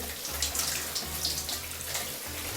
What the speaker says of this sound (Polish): jestem akurat pod prysznicem